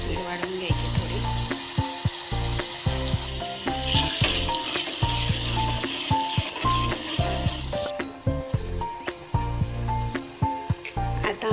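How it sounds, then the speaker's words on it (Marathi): Ground masala paste sautés in a pan for a village-style jackfruit curry, giving a continuous close sizzle with stirring scrapes, over a steady patterned background sound. "वाटण केलेला मसाला टाकलेला आहे याच्यात. त्याला होऊ द्यायचं, थोडंसं परतून घ्यायचं"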